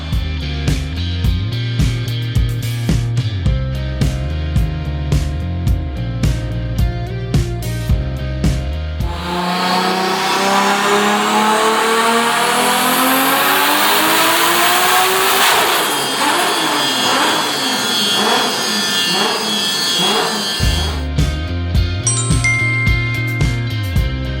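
A tuned Nissan Cefiro A31 making over 1000 horsepower revs hard and loud, with choppy pulsing bursts, then a long sweeping rise and fall in pitch as the engine climbs and drops, before returning to rapid stuttering revs.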